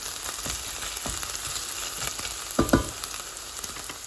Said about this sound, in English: So now the onions and the spices are cooking very well